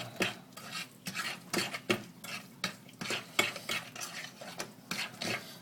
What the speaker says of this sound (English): Give it a good stir. Mix it all in.